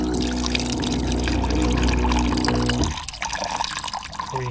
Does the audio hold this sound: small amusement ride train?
no